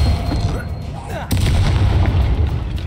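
Expelliarmus spell impact in the Hogwarts Legacy video game: a loud, booming blast bursts in about a third of the way through, over a dense rumbling game mix of combat effects with a voice heard early on.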